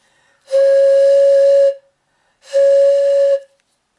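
Two sustained breathy tones blown on a homemade pan pipe cut from Japanese knotweed stems, each a steady airy note lasting about a second, with a short pause between them, close and fairly loud.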